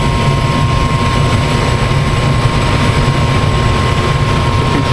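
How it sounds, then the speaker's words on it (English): A furnace blower fan running steadily, a loud, constant whooshing airflow with a low rumble and a fixed hum, holding even throughout with no pauses. "The control board's working because we just heard the blower fan come on."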